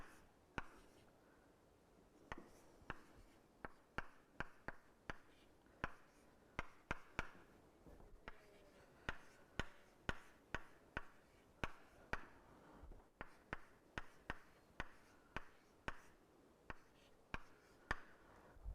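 Chalk tapping and scratching on a board during a mathematics lecture, sharp irregular clicks in quick bursts over a quiet room, close and distinct with no talk.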